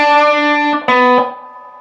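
An electric guitar plays a short solo phrase, a sustained ringing note, then a quick break and two further picked notes that ring out and fade, loud and alone.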